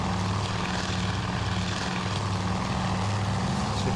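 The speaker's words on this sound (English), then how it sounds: "some planes are in the air." WWII fighter planes such as a Wildcat and a Zero fly in the Task Force Admiral game, their propeller engines making a steady, loud droning hum that holds throughout with no talking.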